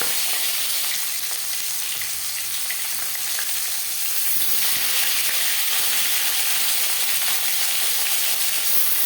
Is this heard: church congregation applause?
no